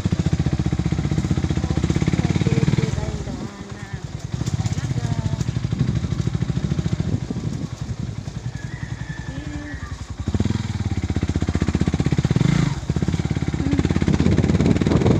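A motorcycle engine runs close by, rumbling and revving unevenly, easing briefly and picking up again, with a person talking over it.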